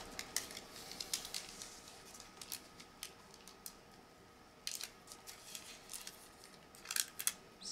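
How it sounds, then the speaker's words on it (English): Wax paper for a favor bag, cut 6 by 11 inches and scored at half an inch, is folded by hand, giving soft, faint crinkles and scattered sharp crisp ticks at an irregular pace in a quiet room. "Just going to fold the wax paper."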